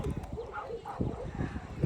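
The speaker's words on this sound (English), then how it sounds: "those dogs keep barking" Dogs bark in short, low, muffled bursts near Lake LBJ, partly masked by someone talking over them.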